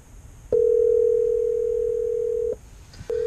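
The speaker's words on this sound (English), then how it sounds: "we're going to go ahead and make a phone call today, and I'm going to call myself." Outgoing call ringing through Apple CarPlay in a car: a steady electronic ring tone sounds for two seconds, breaks off, then starts again, loud and alone.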